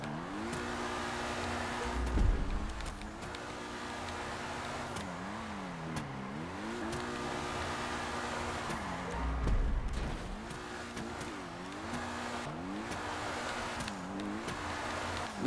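Pegassi Infernus Classic sports car engine in GTA 5 Online, a steady droning growl with rising and falling revs as it drifts, two brief louder surges of tire or engine noise, no talking.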